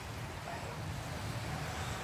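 Steady rushing surf and wind at the seaside on Boulevard Molo, Iloilo City, a continuous wash of waves without a break.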